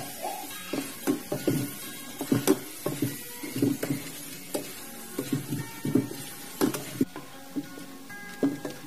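Dried fish stir-fried in a pan, with irregular scraping and clattering from the spatula, some strokes sharper than others, close and moderately quiet, with no voices.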